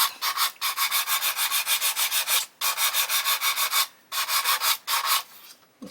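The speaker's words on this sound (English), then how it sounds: "So what I'm going to do is just keep sanding on here." Sandpaper rubs by hand over the wheel arch of a 1/12 Italeri Lancia Stratos model car body in quick, even back-and-forth strokes, close and rasping, stopping briefly several times.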